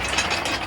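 A workshop engine hoist being moved, giving a short burst of metallic ratcheting clicks close by, brief and alone.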